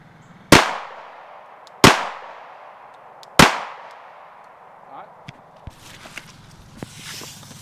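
Three sharp, loud 40 caliber pistol shots fired with Gold Dot duty ammunition into a homemade bullet trap at about five yards, evenly spaced with ringing decay, followed by faint clinks and shuffling.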